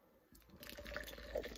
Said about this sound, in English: So we're gonna pour it.